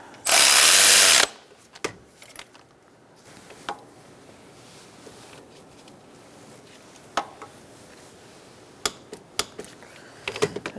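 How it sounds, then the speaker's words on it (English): An alternator bolt on a 2002-2006 Toyota Camry 2.4L L4 is tightened and torqued. A loud one-second mechanical burst comes first, followed by quiet scattered metallic ratchet clicks and tool taps at close range. "Let's tighten this bolt up and then torque it to"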